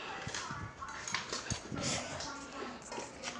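A little puppy whimpers and yelps in short bursts while being given a bath, with splashing water and people talking over it close by.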